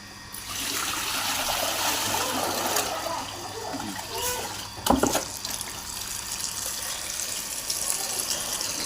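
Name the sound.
running tap water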